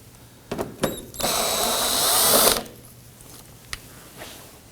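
A power tool unscrewing bolts from the wheel-well liner of a 2018-2024 Toyota Camry, a short whir and then a sustained high-pitched drill run of about a second and a half, with clicks and handling noises around it, close by.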